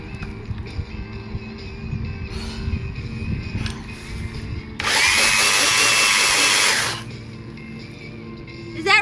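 A belt sander runs on a workpiece: quiet scraping and clunks, then a loud, sustained high whirring grind for about two seconds that stops abruptly, with voices nearby.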